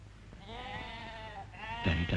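Goats bleat on a farm: a long, wavering call followed by a second, louder bleat, with a low hum and rustling behind them.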